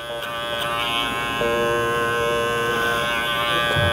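Electric hair clipper fitted with a 3mm guard buzzes steadily and close, its motor hum continuous while cutting hair behind the ear during a high crew cut, with no talking.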